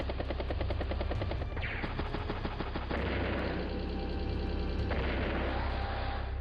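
Tanks and infantry clash in the video game Advance Wars: Days of Ruin, a dense, continuous din of rattling gunfire, rumbling engines and booming shots that holds steadily loud throughout.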